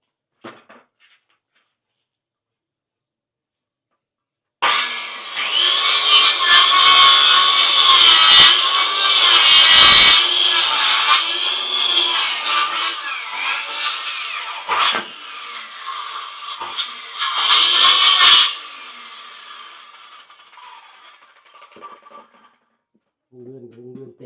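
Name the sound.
saw cutting wood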